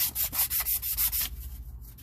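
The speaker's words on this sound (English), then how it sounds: "it's up to your discretion whether you want to sand this or not." Sandpaper of about 600 grit rubs against a Yamaha YFZ exhaust part in quick, close back-and-forth strokes, about eight rhythmic passes followed by lighter, faster scrubbing.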